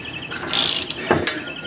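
A wrench with a cheater bar loosens a bolt while a Rough Country lift is fitted to a Ford Bronco with a 2.5, giving a short burst of ratcheting clicks and a metallic creak, close and sharp.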